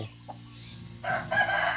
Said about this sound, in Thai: อันนี้เป็นไก่ชนนะครับ